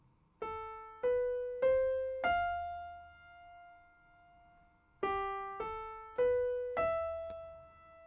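A piano plays a short rising four-note phrase, pauses, then repeats it; clear single notes ringing out and decaying, no voices.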